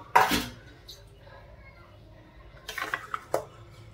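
A metal spoon stirs a pot of cooking meat, with a loud scrape-and-clink at the start, a quiet stretch, then a quick cluster of clinks against the pot near the end.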